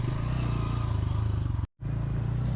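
A motorcycle rumbles steadily along a badly broken rural road, its engine loud and close with a constant rough drone, briefly cutting to silence near the end before resuming.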